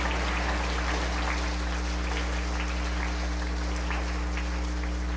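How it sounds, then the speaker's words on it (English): Applause for children at a livestock-show parade of champions in a main barn, a steady even wash of clapping like rain, moderately faint over a low constant hum. "Please give these kids another huge round of applause."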